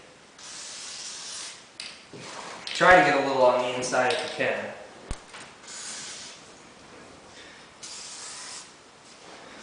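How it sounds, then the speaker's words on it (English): Short bursts of hissing from an aerosol can spraying charcoal lubricant onto snowmobile track slides, close by, with someone talking partway through. "I'm going to spray some charcoal on here so it'll slide on easier"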